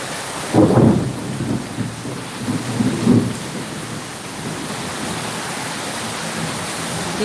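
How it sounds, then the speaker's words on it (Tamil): Thunder rolls through a heavy rainstorm, a deep rumble that swells early and fades over a few seconds, over a constant loud wash of falling rain. "இடிக்குது"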